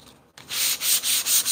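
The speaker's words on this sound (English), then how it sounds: "Because you're sanding on something solid, and it'll basically help you sand it." Sandpaper scrubs a canvas stretched on a wood frame in quick, rhythmic back-and-forth strokes, close and loud, after a brief pause at the start.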